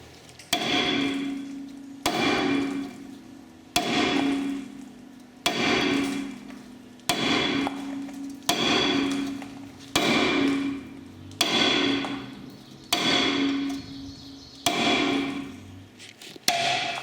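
Hammer blows tapping a rear brake rotor to free it from the hub, eight sharp metallic strikes spaced evenly about every one and a half seconds, each ringing briefly before the next, close and loud with no talk.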